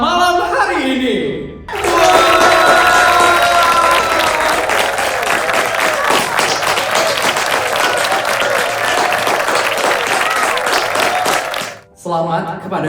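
At a Balinese wedding reception, guests break into loud, sustained applause for the newlyweds after a brief voice, with cheering and chatter mixed into the clapping until a short lull near the end.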